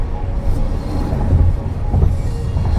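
A train rumbles past close by, a steady heavy low roar with faint rhythmic rail clatter and a brief high squeal.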